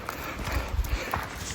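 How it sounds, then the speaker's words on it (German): Horses on an animal meadow at a campsite produce a few soft hoof clops at a distance, mixed with low rumbling background noise. "Hier ist irgendwie eine Tierwiese, irgendwelche Pferde oder so drauf."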